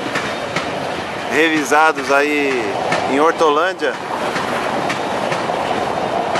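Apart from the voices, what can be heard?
MRS freight train with GDU wagons passing on the rails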